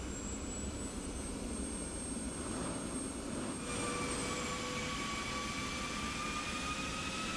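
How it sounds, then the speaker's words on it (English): An F-16C's jet engine starts up in the DCS flight simulator, a steady broadband roar with thin whining tones that rise in pitch as the engine spools. "Sword 2-1 cleared for engine start."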